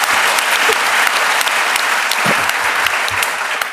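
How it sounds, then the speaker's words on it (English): An audience at a talk on the English language bursts into applause, a loud, dense and continuous wash of many hands clapping throughout, with no talking over it. "That second bit of applause doesn't come out of my allotted time, does it?"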